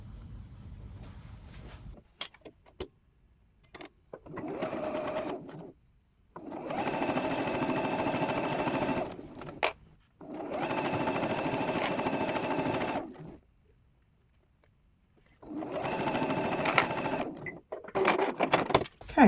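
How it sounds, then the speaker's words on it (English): Sewing machine stitching quilt-as-you-go pieces together in bursts, loud and close, with several runs of rapid mechanical whirring separated by quiet pauses, the final burst uneven and stuttering. "And then I'm going to sew this one down."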